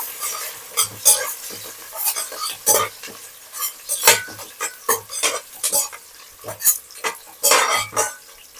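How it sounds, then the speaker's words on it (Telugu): Onions being stirred in a pot for tomato coconut milk pulao: a spoon scrapes and knocks against the metal in irregular bursts over a faint sizzle, close and fairly loud, with no talking. "ఇప్పుడు ఒకసారి కలుపుకుందాము."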